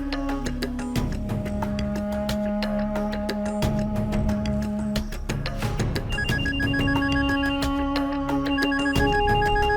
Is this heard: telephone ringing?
yes